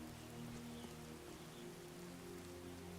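Rain falls in the video game Skyrim, a soft, steady patter of drops on surfaces over a faint low in-game hum, quiet and continuous with no talking.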